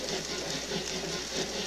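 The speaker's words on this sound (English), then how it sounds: "You can tell what speed the trains are going at from the chuffing." An N gauge model steam train runs along its track with a soft, steady rhythmic chuffing and a mechanical whirr, fairly loud and continuous, with no talking.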